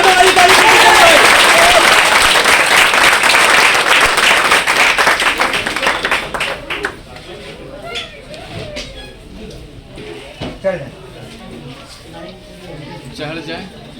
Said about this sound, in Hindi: एक बार जोरदार ताली के बीच अनुज जी को यहाँ पे बुलाया जा रहा है।